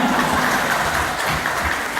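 An audience at a religious sermon claps together in a brief, steady burst of applause, moderately loud and even throughout.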